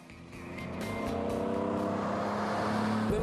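A classic MG Sebring racer with a Weber carburetor revs up and holds a rising, droning engine note close by, building over the first second and then staying steady, with no talking.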